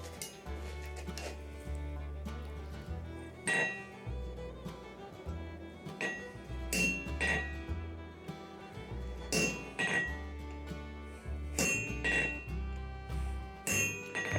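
A ball fuller tool is hammered into a metal bar to form countersinks while forging a ram's head hook: sharp, ringing metallic strikes in irregular bursts, close and clear, with no talking.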